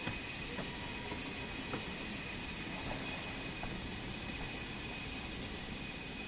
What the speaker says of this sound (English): There's another freight trundling around over there with some fitted and unfitted.